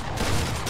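A short, dense burst of gunfire from a squad match in Fortnite, loud and brief against busy game noise.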